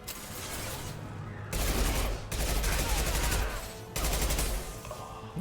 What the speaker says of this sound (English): I hate this gun because the recoil is putting it up